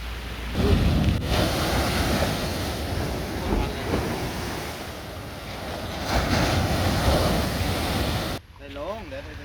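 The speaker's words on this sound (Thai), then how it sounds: "แต่ว่าทะเล ของเราวันนี้คลื่นเยอะหน่อยนะครับ" Choppy sea surf and gusting wind buffet the microphone along the coast near Nakhon Si Thammarat, a steady loud wash of rough waves that cuts off abruptly near the end.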